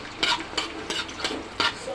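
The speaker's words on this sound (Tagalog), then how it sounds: "nakapagpainit na po ako ng ating kawali. Nilagyan ko na rin po siya ng mantika. Ayan, mainit na. Salang na natin ang ating bawang." Garlic sizzles in hot oil in a heated pan, with a steady frying hiss broken by about five quick scraping bursts as it is stirred, close and moderately loud.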